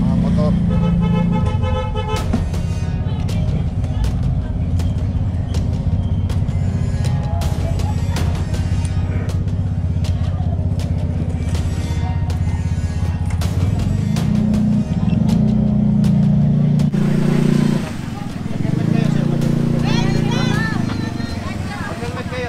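Busy street traffic with motorcycle and truck engines droning steadily and horns tooting repeatedly, someone talking over the noise throughout.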